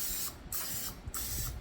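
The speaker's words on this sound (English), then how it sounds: "So I'm just gonna spray the pans" Three short bursts of cooking spray hissing into baking pans in quick succession, close and fairly quiet.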